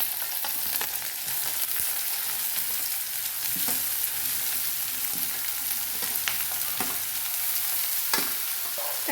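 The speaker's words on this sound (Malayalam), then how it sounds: "സവാള ഇട്ട് കൊടുക്കുക" Sliced onion stir-fries in a hot pan with ginger and green chilli for a prawn roast, giving a steady loud sizzle with scraping spatula strokes and occasional clinks, no voices.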